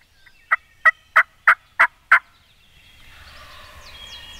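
Wild turkeys gobble six times in a quick, evenly spaced run during a crossbow turkey hunt, loud and fairly close, then fall silent as faint outdoor ambience and distant birdsong take over.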